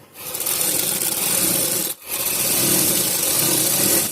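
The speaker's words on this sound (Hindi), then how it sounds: "फिर हमें शोल्डर की सिलाई करनी है ऐसे" A sewing machine runs steadily stitching the shoulder seam of a cotton frock-style kurti, a continuous close whirring broken by one brief pause near the middle before resuming.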